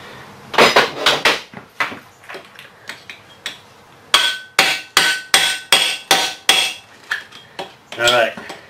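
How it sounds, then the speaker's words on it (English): A hammer strikes a chisel again and again during a tub grinder jackshaft refurbishment. The sharp metallic blows come close and loud, first in irregular clusters, then in a steady run of evenly spaced hits, with no talking. "Chisel."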